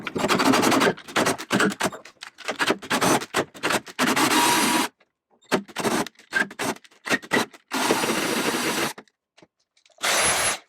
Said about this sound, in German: Jetzt gehe ich zu einem 10 mm Bohrer.